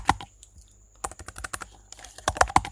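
Irregular clicking keystrokes on a computer keyboard, close and clear, some quick pairs and scattered single taps across a short stretch.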